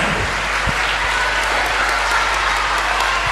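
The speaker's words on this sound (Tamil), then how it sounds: "நல்ல ஒரு கைத்தட்டை கொடுத்து உற்சாகப்படுத்துங்க." Sustained audience applause fills the hall at an address by a central information and broadcasting minister, dense steady clapping with a few sharper claps standing out near the front.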